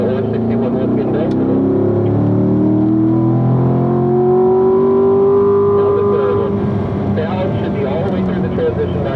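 A race car on a track, the orange 61, accelerates down the back straight, its engine note climbing steadily through the gears, loud and close, with someone talking over it throughout.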